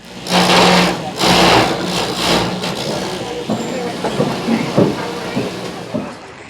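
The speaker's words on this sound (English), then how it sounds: "This machine works similarly to a key copying machine. The machine follows the model while the knives cut out the exact same shape" A copy-carving machine cuts wooden clogs from a template in Amsterdam, a loud buzzing whir rising and falling in bursts while spinning knives bite the wood. People talk nearby.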